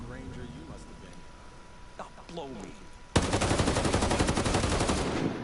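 Someone talks briefly, then an ACR assault rifle in the Ghost Recon video game opens up in a loud, fast, sustained automatic burst that fills the last two seconds.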